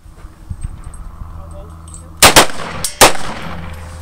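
Gunshots fired at a target ring out as three sharp, loud cracks close together, then a fourth a moment later, after a quieter stretch of outdoor background.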